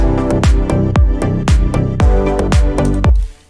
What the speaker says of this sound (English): And then of course we add some claps